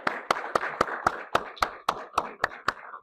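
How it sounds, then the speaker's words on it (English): An audience claps for a guest speaker at a conference, the clapping sparse and evenly spaced, like a small crowd or a few pairs of hands keeping a steady rhythm for about three seconds. "let's give a big round of applause for Todd."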